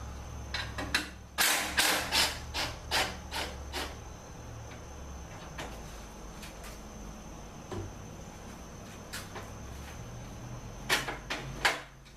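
Metallic clicks and ratcheting taps from a wrench loosening bolts on a mini 8N tribute tractor mower, short bursts of clustered clicks with quieter gaps, close and alone.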